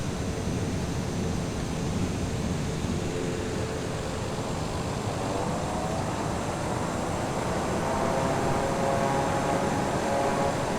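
A TBM turboprop rolling out after landing at night with the propeller reverser engaged, a loud, steady broadband roar of engine and prop wash that swells slightly toward the end, heard from inside the cockpit.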